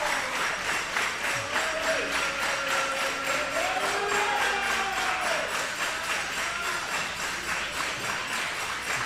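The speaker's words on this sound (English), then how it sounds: "Crowd cheering for Riley to get back up." A wrestling match crowd sends up a steady wash of cheering and applause from a distance, continuous throughout, with a few rising voices calling out over it.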